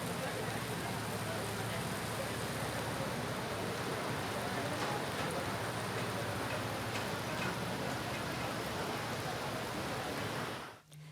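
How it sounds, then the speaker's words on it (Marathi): Rain falls steadily in Hingoli town as a soft, even patter and hiss of drops on surfaces. It holds constant and faint throughout, then cuts off abruptly. "हिंगोली शहरात दुपारीच पावसाला सुरुवात झाली।"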